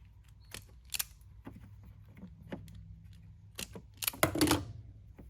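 A patch cord for a Hoover Tempo vacuum is cut down in a few scattered snips and clicks, faint and close, with a louder rustling handling burst near the end and no talking.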